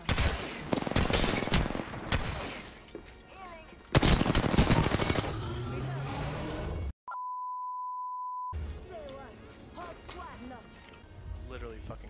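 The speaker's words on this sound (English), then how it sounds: "Literally fucking shotguns everywhere, man." Shotgun fire in the Apex Legends video game, loud booming shots in two bursts, then a steady beep tone and more gunfire with game effects, with players talking over the action.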